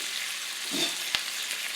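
Peppers softening in a frying pan for pepper steak, a soft steady sizzle at low level with one brief scrape and a single sharp tap of a utensil.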